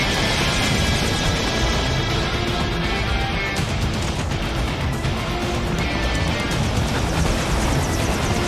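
A helicopter in the action game Metal Gear Rising: Revengeance, a loud, dense rotor roar mixed with game combat noise and occasional bursts, continuous and close throughout.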